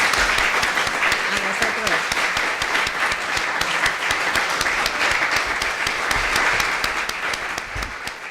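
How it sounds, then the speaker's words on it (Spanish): A conference audience applauds steadily and loudly at the end of a talk on libraries and e-books, with dense clapping sustained throughout. "Yo creo que tenemos que darle un aplauso."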